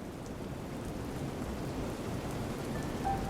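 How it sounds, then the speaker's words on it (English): Heavy rain pours continuously in a steady, full hiss with a low rumbling undertone, like a hard downpour against a window on a stormy night; a faint tonal whistle briefly surfaces near the end. "the rain was beating hard upon her window"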